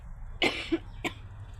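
A woman coughs at home, two short harsh coughs about half a second apart, fairly close but quiet, over low background hum.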